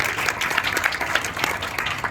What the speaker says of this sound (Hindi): तालियों से हम अभिवादन करें